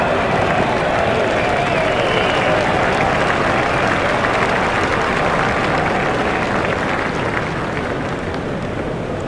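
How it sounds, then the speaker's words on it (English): Dense, steady crowd applause and cheering fill a stadium in an EA Sports IPL T20 cricket video game, RCB against MI, rising after a batsman's shot and holding loud and continuous throughout. "The crowd really enjoyed that shot."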